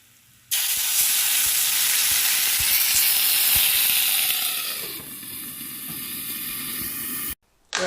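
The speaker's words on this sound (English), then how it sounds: "It's time to add the water for steam." Collard green potstickers sizzle loudly in a hot pan, then water hits the pan and the frying turns into a steady steaming hiss that softens toward the end before cutting off.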